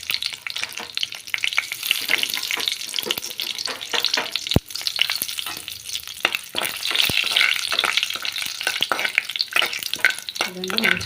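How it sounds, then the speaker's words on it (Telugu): Cashews and whole spices fry together in a small pan, a loud, close sizzle crackling continuously with frequent scraping and tapping from stirring and one sharp knock near the middle. "విధంగా మంచిగా వేయించుకోవాలి"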